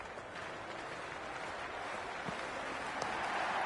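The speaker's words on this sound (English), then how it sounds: "this crowd is already making it hard for me to be heard" Crowd noise from a PS5 cricket game during a one-day international between India and Australia, a steady, fairly faint wash of roaring spectators and applause with no clear talk.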